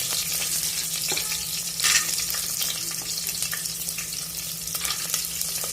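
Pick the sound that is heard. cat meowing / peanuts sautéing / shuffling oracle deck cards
peanuts sautéing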